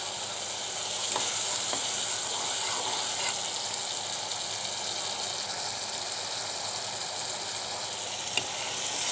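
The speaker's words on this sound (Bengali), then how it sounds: "সেই জন্য ভালো করে কষিয়ে নিচ্ছি।" Spice masala frying in a pan, a dense continuous sizzle with steady hiss throughout, faint scraping now and then as it is stirred, no talking.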